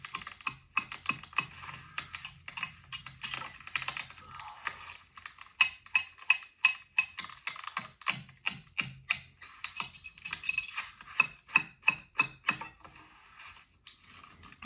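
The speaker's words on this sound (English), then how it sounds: "He brought a hand drill." A hand drill turns during an Arctic survival shelter build, giving off fast bursts of ratcheting clicks and gear chatter that come in irregular runs with short pauses, close and fairly quiet.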